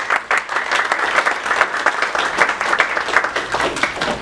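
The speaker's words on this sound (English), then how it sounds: "Let's give her a round of applause, please" Steady, lively audience applause at a RE/MAX real estate seminar for a top-producing agent, dense clapping throughout the short stretch with no pause.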